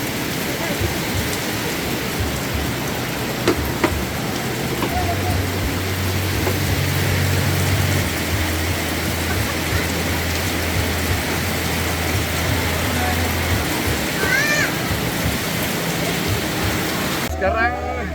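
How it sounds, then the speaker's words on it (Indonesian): Steady rain pours down during a drive, a dense continuous hiss with low rumbling underneath throughout. "Terus hujan."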